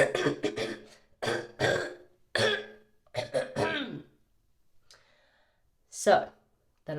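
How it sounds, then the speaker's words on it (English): A person clears their throat several times in short, harsh bursts, separated by pauses, close to the microphone. "Let me clear my throat."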